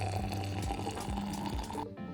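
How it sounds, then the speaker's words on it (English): Hot water is poured to brew Russian olive leaf tea, a steady, close splashing and gurgling stream that runs for about two seconds and then cuts off. "Brew the tea with the hot water, let it sit for a little while"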